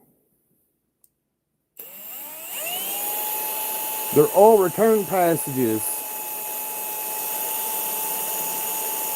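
A high-pitched drill with a 5/64 bit spins up and whines steadily while boring holes in pistons, close and loud, with a few short bursts of speech over it partway through.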